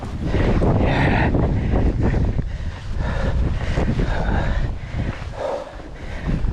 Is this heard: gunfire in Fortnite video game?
no